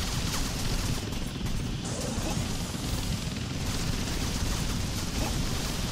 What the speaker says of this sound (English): I just stand in the gunfire.